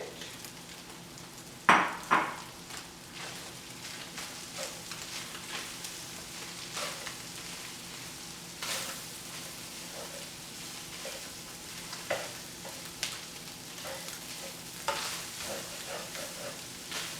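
Cabbage sizzles steadily in a hot pan with garlic for a beef noodle stir fry, with a few sharp stirring clatters near the start and scattered utensil scrapes throughout.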